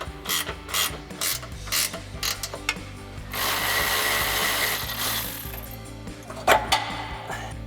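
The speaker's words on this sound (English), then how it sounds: "I've got our 18mm ratcheting wrench on our upper control arm bolt" An 18mm ratcheting wrench loosens an upper control arm bolt on a Jeep Wrangler JL during a suspension lift install, making close, rapid metallic clicks in short bursts with a steadier run in the middle.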